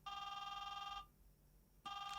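A telephone in an animated TV comedy rings with a bright electronic trill, one full ring of about a second, a pause, then a second ring starting, clear and alone.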